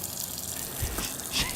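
Water from a shower spraying onto a car's sunroof, a brief, steady hiss and patter of spray heard at moderate distance.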